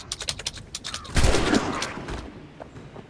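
Video-game gunfire in Assassin's Creed 3: a few light clicks, then one loud, sharp shot with a brief rattling tail.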